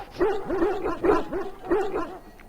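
A trained Mabari war hound in the fantasy game Dragon Age Origins barks loudly and close up, about five sharp, deep barks in an uneven rhythm, each with a short whining edge.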